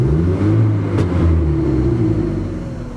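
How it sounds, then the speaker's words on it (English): A car engine rumbles steadily at a high idle, revving briefly with a rising whine before settling back down, loud and close. "it revs up just as quick as it did before"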